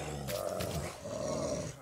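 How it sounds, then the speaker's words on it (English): Growling and roaring from an animal in a survival video game, apparently a dog or bear, two sustained rumbling growls close and loud with no talk over them. "I hear a dog."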